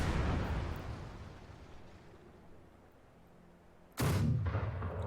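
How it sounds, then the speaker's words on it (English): A mortar firing in the video game Company of Heroes 2: a booming launch that fades into a long rumbling decay, then a second sharp, loud blast a few seconds later, with no talking. "There's our mortar."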